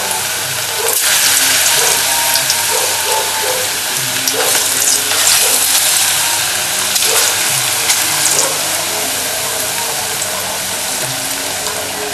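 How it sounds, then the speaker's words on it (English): Plantain frying in oil in a pan gives a loud, continuous sizzle lasting throughout, with occasional utensil clicks and stirring scrapes close by and no talking. "you can fry some plantain before the saltfish"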